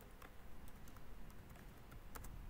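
Fast computer keyboard typing, quiet and close, with light irregular key clicks spread over a steady low background hum.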